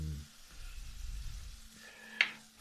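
Bell peppers, garlic and onion sizzle in a frying pan with ham, a soft low crackle and hiss with a brief sharper clink of a utensil near the end.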